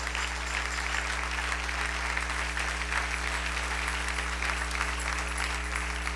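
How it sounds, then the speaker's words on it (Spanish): A church congregation gives sustained applause during a morning service: dense, steady clapping from many people under a constant low electrical hum, with no talk. "Dele un aplauso al Rey en esta linda mañana."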